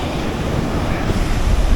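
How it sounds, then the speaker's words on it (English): Big ocean waves roll and crash on a volcanic black sand beach at Enoshima, a steady loud surf roar with wind buffeting the microphone throughout. "I'm not going too close because these waves are big"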